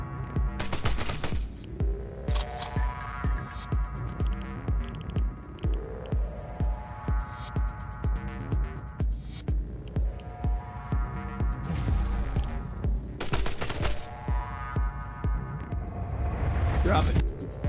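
Submachine gun fire in the video game All Walls Must Fall comes in rapid repeated bursts over a rhythmic electronic soundtrack, with someone talking at times.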